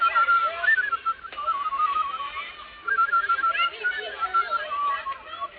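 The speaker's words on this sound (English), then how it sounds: "I hope I can still whistle." A person whistles a wavering melody on an old radio broadcast, thin and moderately loud, with brief gaps between phrases.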